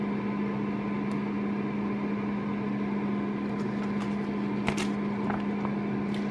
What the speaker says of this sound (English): So this is the New Wave Brio 3-quart digital air fryer.